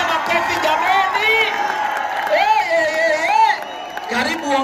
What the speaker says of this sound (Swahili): Tupigie makofi jamani